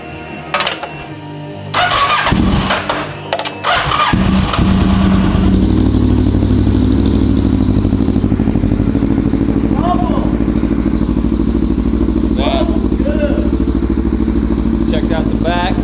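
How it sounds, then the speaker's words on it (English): A custom Kawasaki Ninja 650R with an aftermarket exhaust cranks with a few clattering attempts, then fires up and settles into a loud, steady rumbling idle close by, with occasional voices underneath. "Let's start it up. Way you can hear the exhaust."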